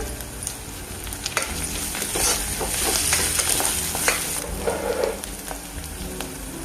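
Ginger garlic paste frying and being stirred in a pan, a steady close sizzle with scraping stir sounds over it.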